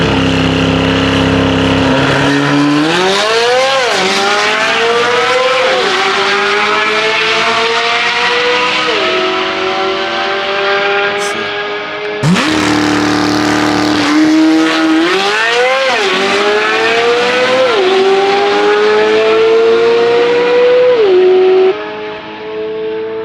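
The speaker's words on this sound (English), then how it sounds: "we got another runner between the Z06 and the Ferrari" Corvette Z06 and a Ferrari launching side by side at a drag strip, engines roaring loud and near with rising, stepping gear-shift sweeps, a brief cut, then a second run climbing through the gears again.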